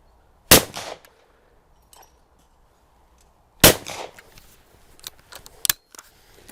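Two loud, sharp shotgun shots from a Browning or Beretta firing Fiocchi 24 gram cartridges, spaced about three seconds apart, followed by lighter clicks and clacks of the gun being handled, outdoors with no talking.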